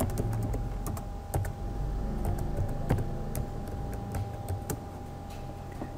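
Keys clatter on a computer keyboard as a new password is typed, a steady run of light close clicks with a few sharper taps over a low background hum.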